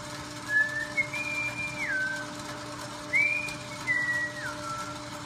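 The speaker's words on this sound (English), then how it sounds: "I love to whistle" A person whistles a short melodic phrase, pauses, then whistles another, clear and fairly close over a steady low electrical hum.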